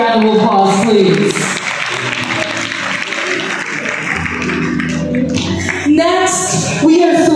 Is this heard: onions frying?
no